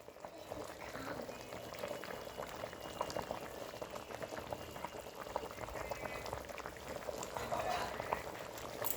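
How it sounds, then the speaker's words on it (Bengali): Katla fish curry broth with cauliflower and potatoes boils in a pot, a soft, steady bubbling and gurgling that stays low and even, rising slightly toward the end. "দেখুন বন্ধুরা, ঝোলটা ভালো করে ফুটে উঠেছে।"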